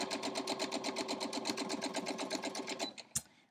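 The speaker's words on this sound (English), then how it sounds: "And we're just going to sew these lines." A sewing machine stitches quilt block lines in a steady, rapid rhythmic chatter for about three seconds, then stops with a sharp click.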